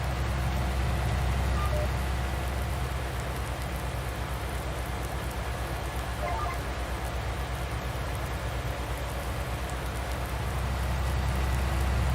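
Steady rain in Farming Simulator 19 falls throughout, a dense, even patter with a low rumble underneath, continuous and fairly close.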